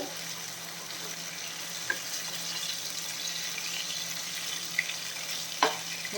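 Fish pieces frying in a pan for a Kerala-style fish molly, giving a soft, steady sizzle with a few faint clicks, close and without talk.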